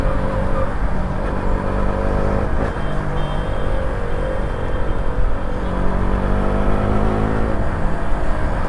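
A KTM RC motorcycle is ridden at full throttle at night, its engine roaring loud and close with a steady rising drone and shifting revs over several seconds.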